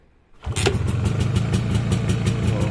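An MZ ETZ 250 two-stroke motorcycle engine fires up at the first attempt after a brief quiet moment, then settles into a steady, close, rapidly pulsing idle that runs loud to the end.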